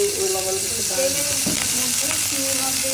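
Prawns frying in hot oil with a little turmeric, a loud steady sizzle with stirring clatter close by, continuous throughout with no voice.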